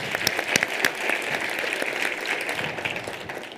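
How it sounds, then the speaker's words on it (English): A graduation audience applauds the choir at a university ceremony, a steady wash of clapping with a few sharp individual claps standing out near the start, fading slightly by the end. "Another round of applause to our multi-talented choir"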